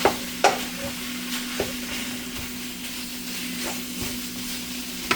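Egg roll bowl filling fries in a pan with a steady hiss, broken by a few scraping stirs of the utensil, close with no voices.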